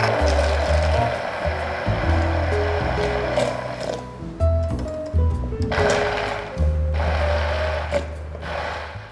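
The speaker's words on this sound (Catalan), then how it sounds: "I triturem." Blender purees an oil and water mixture for a cabbage, pea and cuttlefish sauté, a loud near motor whir running in pulses that stop and restart several times.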